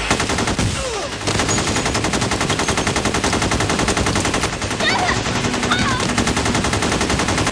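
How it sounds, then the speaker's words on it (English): Automatic rifle fire during the North Hollywood bank shootout in Los Angeles, loud sustained bursts of rapid gunshots, with a brief pause near the start and faint voices and sirens mixed in. "Firing non-stop."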